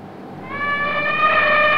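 An elephant trumpets in a sustained, tonal call that swells in and holds steady, moderately loud and alone with no voices.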